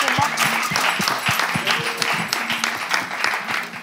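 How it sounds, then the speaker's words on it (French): Steady applause from a live TV show audience for the coaches, dense and sustained throughout, with a few louder claps standing out near the front. "J'aimerais qu'on puisse applaudir encore nos coachs."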